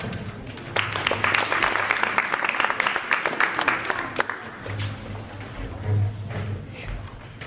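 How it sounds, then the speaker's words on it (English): A school audience at a Greek mythology night breaks into applause, a dense patter of clapping that swells and then fades as a voice talks over the tail end. "Please give a round of applause for Arnold."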